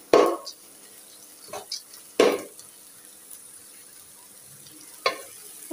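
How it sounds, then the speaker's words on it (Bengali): Polao rice being fried with onion, cardamom and cinnamon in a pot, heard as a few sharp scraping stirs and clinks over a faint low sizzle, with quiet gaps between the strokes. "এই যে পোলা চাউল ভাজি করে নিচ্ছি, পেঁয়াজ এলাচ দারচিনি ভেজে নিয়েছি"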